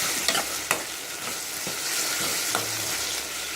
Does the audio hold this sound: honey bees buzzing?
no